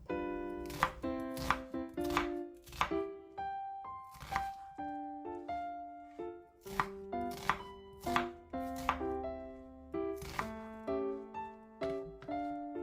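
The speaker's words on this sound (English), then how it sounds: "Now I'm going to cut the onion in half, and then we're going to give it a rough chop." A knife rough-chops an onion on a board in a quick run of sharp, ringing thunks, several strokes in close succession with brief pauses, near and clear with no talking.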